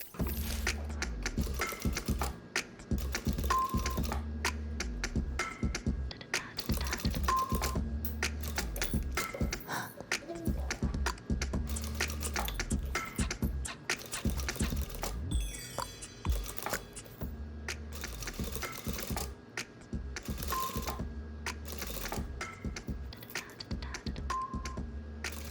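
A domestic sewing machine stitching along a bias binding edge, with a fast mechanical whir and patter in bursts, brief pauses and a few clicks between runs, heard close with no speech.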